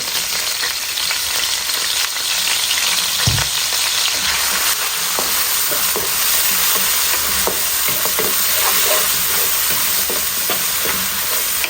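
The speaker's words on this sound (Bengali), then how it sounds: "দুই থেকে 3 মিনিট আমি ওলাখান পেঁয়াজে আর তেলে রসুনের লগে মশলারে পেঁয়াজরে কষাইমু" Garlic, onion and spices frying in oil in a pan, a loud steady sizzle with scraping stirs throughout, no talk.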